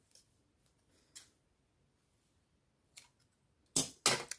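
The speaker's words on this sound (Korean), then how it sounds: "끝에 부분 보이면 예쁘지 않으니까 가위로 좀 짧게 잘라주세요." Scissors trim the cut ends of macrame cord in a handmade wall hanging, giving a few sparse, crisp snips that end in two louder, close cuts.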